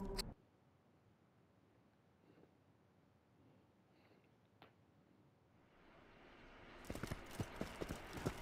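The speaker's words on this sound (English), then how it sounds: "there's a horse that went after me or something" Horse hooves clip-clop in a Borderlands video game, a quick run of sharp, close hoofbeats near the end after a long, nearly silent stretch.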